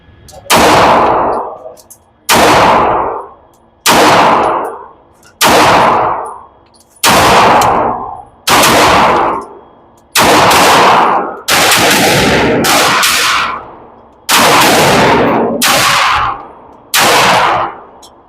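Girsan Witness 2311 Match pistol firing about a dozen loud, sharp shots, spaced one to two seconds apart with a few quicker pairs, each ringing out briefly.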